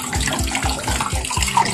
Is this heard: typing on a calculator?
no